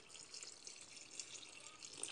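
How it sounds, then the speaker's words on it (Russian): A thin stream of water runs into an Afghan kazan cooking pot while solyanka is being made, a faint, steady trickling pour that goes on without a break. "Осталось добавить немножко воды."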